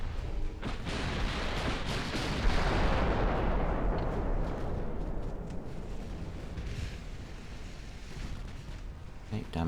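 Warship secondary guns fire in the naval game Ultimate Admiral: Dreadnoughts, a dense, rumbling barrage of booms that builds and then slowly fades, with a voice talking over it.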